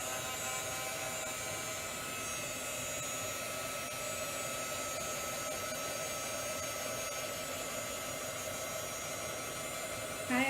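Heat tool drying ink on a t-shirt: a steady, loud blowing whoosh with a whining hum that runs unbroken for about ten seconds, close up and alone, ending with a short bump.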